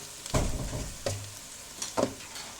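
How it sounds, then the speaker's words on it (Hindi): Chicken fries in a pan after soy sauce and chili sauce are added for Chinese chili chicken, heard as three short bursts of sizzling and stirring with quieter pauses between. "इसे डाल के ज़रा मैं इसे फ्राई करूँगी"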